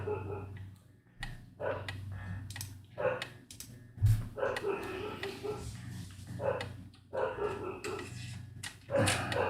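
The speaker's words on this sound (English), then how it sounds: "He's a noisy dog, but he's a pretty good dog." Samoyed named Apollo barking repeatedly in the background, a series of sharp, loud yelps and woofs in uneven bursts over steady low room noise.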